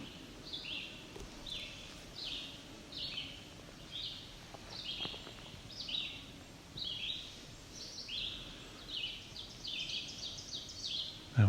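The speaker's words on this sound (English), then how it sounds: "That was an ovenbird." An ovenbird sings a steady series of loud, repeated two-part phrases that keep coming in a regular rhythm, with soft forest ambience underneath.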